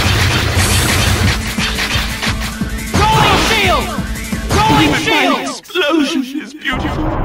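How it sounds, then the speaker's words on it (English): Explosions in the video game Mega Man Maverick Hunter X, played on a PSP emulator: loud, dense crashing bursts mixed with chirping, sweeping electronic effects, nearly continuous before a brief drop near the end. "Explosion!"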